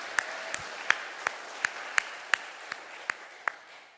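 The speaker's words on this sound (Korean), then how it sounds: "우리 모두를 위해 하나님께 영광의 박수 올려드립니다." Congregation applause during a Sunday morning church service: a steady run of evenly spaced claps, fairly close and moderately loud, gradually thinning out toward the end with no talking.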